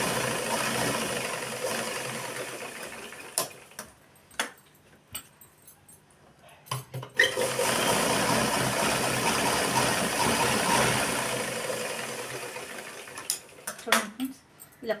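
A sewing machine stitches fabric at a centre point: its motor whirs in two long steady runs, broken by pauses filled with clicks and handling noises, and a voice speaks briefly in between.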